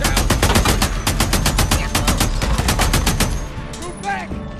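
Heavy gunfire in the video game Days Gone: loud, rapid bursts of automatic shots ring out continuously, then thin out near the end as a brief shouted voice comes through.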